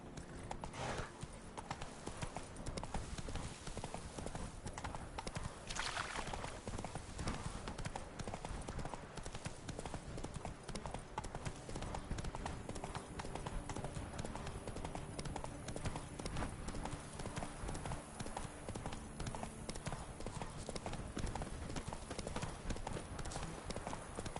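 Hooves of the horse Roach clatter in a steady galloping rhythm in The Witcher 3, beneath a dense bed of game ambience and occasional voices.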